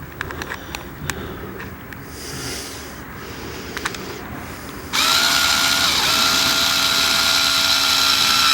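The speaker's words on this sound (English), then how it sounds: "I should have brought my battery screwdriver" A battery screwdriver used for tarp grommet repair whirs at a steady, loud pitch once it starts partway through, after a few seconds of quieter handling clicks and rustling.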